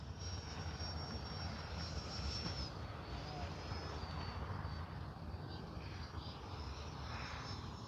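An FMS Rafale 80mm EDF radio-control jet comes in to land, its ducted fan giving a steady distant whine and rushing roar over outdoor wind, fairly faint and continuous.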